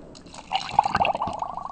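Almond milk pours over ice for a banana caramel almond smoothie: a short, close liquid splash and trickle lasting about a second, alone with no talking.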